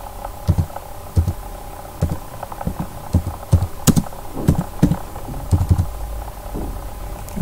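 Keys clack on a computer keyboard in uneven bursts, close and fairly loud, with short pauses between groups of strokes and no talking.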